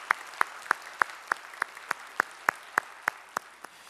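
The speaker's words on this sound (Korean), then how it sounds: "우리의 찬양을 받으실 주님께 영광의 박수 올리겠습니다" A church congregation claps in unison, about a dozen sharp, evenly spaced hand claps in a steady rhythm over faint room noise.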